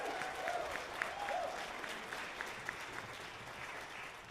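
An audience at a Southeastern Idaho Honor Band concert applauds, steady dense clapping filling a hall, with a few faint voices and cheers mixed in.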